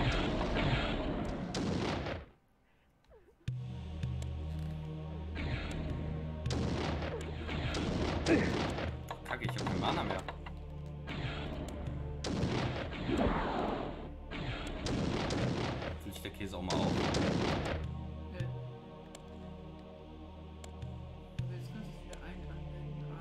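Repeated gunshot blasts from the game Blood Omen: Legacy of Kain come as loud booming bursts in irregular bursts throughout, with someone talking over much of it.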